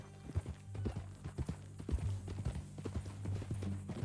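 A horse's hooves clip-clop at a steady walking pace in Red Dead Redemption 2, a rhythmic series of fairly close, quiet thuds over a low background hum, with no speech.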